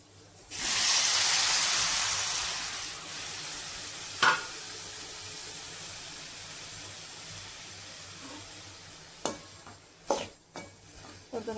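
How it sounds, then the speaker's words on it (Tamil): Boiled bitter gourd pieces dropped into a hot oiled pan burst into a loud, steady sizzle that slowly fades, then a few sharp scrapes and knocks of a spatula stirring near the end, with no voices. "வேக வச்சு எடுத்த பாவற்காய் போட்டுக்கலாம்"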